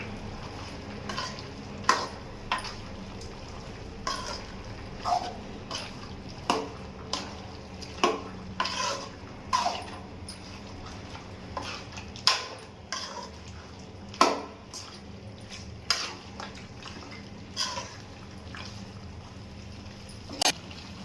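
A spoon scrapes and clinks repeatedly against a pan while chili powder is stirred into a sizzling chicken curry, the steady, irregular scraping taps sitting over a soft frying hiss.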